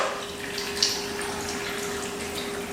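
Roughly a cup of water poured for a spinach detox juice, a steady close splashing stream with a brief louder gush, no talking.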